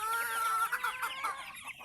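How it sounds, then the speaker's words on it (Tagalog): Chickens cluck in quick, close, rhythmic bursts outdoors on a rural farm, and several birds are audible with no talking. "Ngayon ko manok ini sa gawas."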